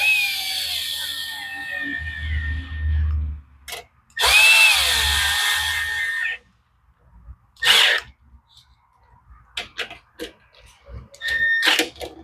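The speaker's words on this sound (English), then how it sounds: "So let's snug the bolts up." On a Honda lawn mower, a power tool tightens bolts in several short whirring bursts separated by pauses, with faint clicks between them. The sound is close and moderately loud.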